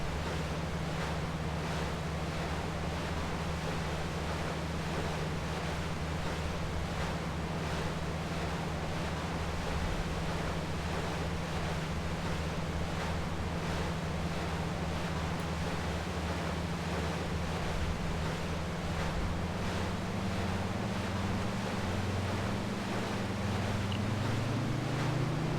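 A Milviz DHC-2 Beaver floatplane takes off from water in a flight simulator, its engine drone steady and rising in pitch toward the end over continuous rushing water and wind.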